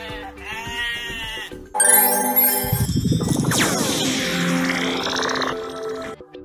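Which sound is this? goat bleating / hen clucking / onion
goat bleating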